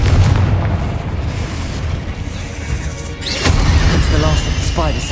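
Confringo blasting curse going off in Hogwarts Legacy, a loud booming blast with a sharp crack midway, set against continuous game combat noise and a dense rumbling background throughout.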